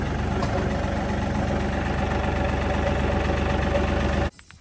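A tractor engine idles steadily with a low, knocking mechanical drone, close and continuous before it cuts off abruptly at the end.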